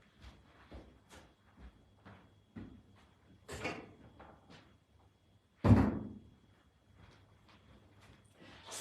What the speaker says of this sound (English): that door's going to slam